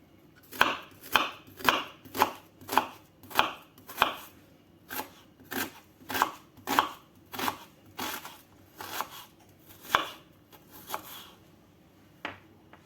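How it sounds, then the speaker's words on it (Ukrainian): A small onion being finely chopped with a knife on a board: about fifteen crisp, evenly paced chops, close and clear, with brief pauses near the end and no talking. "Беремо ось таку невеличку цибулинку і дрібно нарізаємо."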